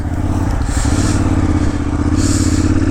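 Engine of a KTM 990 Adventure S motorcycle during riding, a loud, steady drone close to the mic with constant wind rush and no clear change in pitch.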